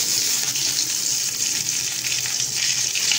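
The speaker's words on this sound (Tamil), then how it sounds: "ஆயில் ஹீட் ஆகிடுச்சு. இப்போ கடுகு உளுந்தம் பருப்பு போட்டுடலாம்." Mustard seeds and urad dal frying in hot oil: a loud, close, continuous crackling sizzle with a dense hiss throughout, steady and without pauses or voices.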